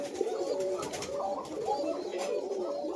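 Pigeons pairing up coo continuously in a soft, rolling, repeated rhythm, close by, over a steady background hiss with faint chirps.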